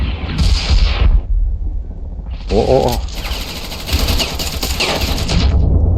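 Heavy automatic gunfire and booming explosions in the video game Ravenfield, loud bursts that swell, break off and resume, with a voice briefly exclaiming during the shooting.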